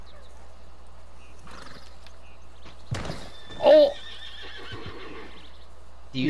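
A horse in Red Dead Redemption 2 lets out one short, loud whinny in the middle, with thuds and hoof clatter around it and a man's brief exclamations.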